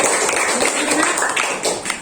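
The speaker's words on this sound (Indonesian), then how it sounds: "ini udah presentasi kelompok 1, kasih tepuk tangan" Elementary classroom pupils clapping for the first group after its presentation, a dense, close patter of many small hands that holds steady throughout.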